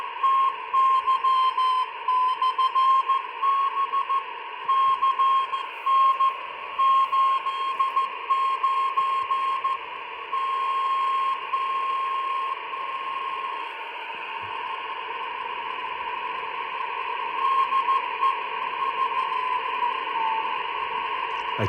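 A shortwave receiver scanning the amateur band, tuned just under 28,197 with a radio signal coming through: a steady, fairly loud tone over hiss, with faint beeping and small pitch shifts as the tuning drifts, no voices.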